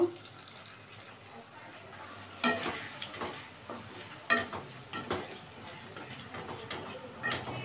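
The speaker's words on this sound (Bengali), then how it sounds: "একটু নেড়ে চেড়ে নেব।" Chili sauce, soy sauce, pepper, salt and a little water stirred in a pan for chili soya: a gentle sizzle with scraping spoon strokes in a few uneven bursts, close by.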